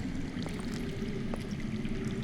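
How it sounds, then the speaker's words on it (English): Steady low rush of running water underground in a Game of Thrones video game, faint and continuous like a distant stream, with a few soft drips. "I hear water. From underground."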